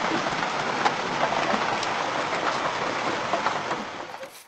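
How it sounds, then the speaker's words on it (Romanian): Hail pours down in a long storm over the village of Perișor, a dense, continuous hiss of stones striking surfaces that stays loud and steady and eases slightly at the end, with no voices. "A început cu o vigilie și a continuat cu o cădere de grindină care părea că nu se mai termină."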